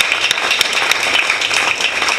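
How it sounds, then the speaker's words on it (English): Audience at a tax reform symposium gives the moderator panel a round of applause, dense steady clapping filling the room for a couple of seconds. "So I definitely want to give our moderator panel a big round of applause."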